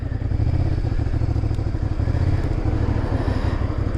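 Honda VTR 250 motorcycle riding up a road, its engine droning steadily with a busy, slightly clattery rumble, close and continuous without speech.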